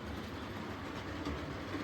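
An OO gauge model railway train runs along its track in a steady, faint low rumble with a slight clicking texture, continuous across the short stretch.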